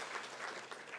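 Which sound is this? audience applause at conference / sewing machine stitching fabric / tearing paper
audience applause at conference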